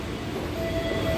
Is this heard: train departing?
yes